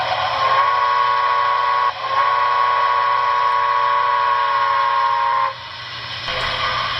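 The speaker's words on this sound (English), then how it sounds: "the auxiliary whistle, function 22." The auxiliary whistle of a Broadway Limited Santa Fe 4000 class 2-8-2 model steam locomotive with Paragon 4 sound sounds loudly and continuously, a multi-tone whistle dipping briefly twice before resuming, held long.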